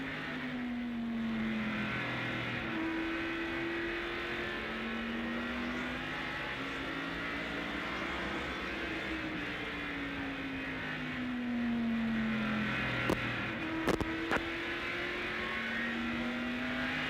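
Ken Schrader's NASCAR Winston Cup stock car at the 1987 First Union 400, engine droning from the in-car camera, rising and falling through a lap with a few sharp clanks late on.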